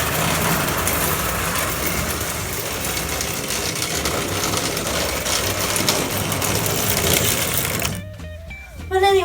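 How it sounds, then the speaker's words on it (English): A Jesse James General 4-4-0 model train set loops around its track with a steady, close mechanical whir and buzz, then breaks into brief thin whistling tones near the end. "we'll give it one last loop around so you can see it, and we'll park it by the engine"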